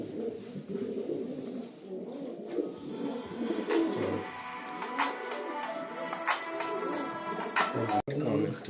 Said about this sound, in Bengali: এই পায়রাগুলো সেল আছে দেখুন